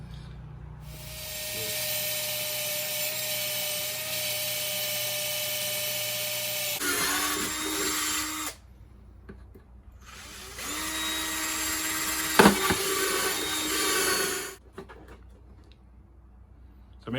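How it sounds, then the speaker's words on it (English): A power tool whines loudly in two long sustained runs, a drill and then a buzzing jigsaw cutting a hole for an Audi S5/S4 B9 intake, with a brief pause and clunks between. "we've got a drill to get the hole started and a jigsaw"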